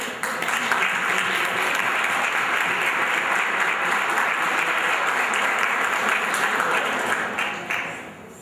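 A theatre audience at a civil rights celebration breaks into loud, sustained applause that fills the hall, steady throughout before tapering off at the end.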